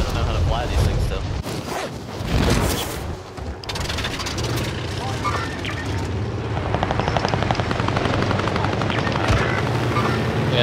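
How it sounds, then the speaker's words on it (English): A video game helicopter roars with a loud, continuous rotor whir and engine drone that fills the whole stretch, shifting in tone partway through, with a voice breaking in briefly near the start. "I think I'm gonna bring a chopper with us."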